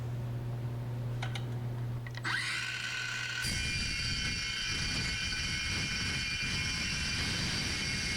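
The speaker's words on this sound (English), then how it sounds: "Here comes that cordless steel saw again." Cordless steel-cutting saw spinning up and cutting through metal, a sustained high whining cut that starts a couple of seconds in and continues loud and steady to the end, with no talking.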